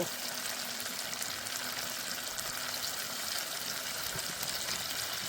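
Soybean curry masala with whisked sour curd sizzles steadily in a pan, a continuous close hiss of frying with faint stirring scrapes and no talk.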